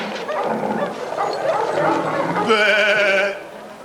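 Lambs bleating in a quavering, repeated cry that swells near the end, over a busy mix of voices and animal calls as a shepherd drives the flock along.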